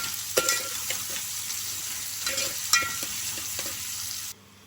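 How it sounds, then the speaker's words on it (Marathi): Chopped onion sautés in a pan toward browning, a steady close sizzle broken by a few sharp scrapes and clinks of the stirring spoon, with no talk. "आता कांदा छान असा परतून घेऊया आपण, तर ब्राउनिश वेळपर्यंत."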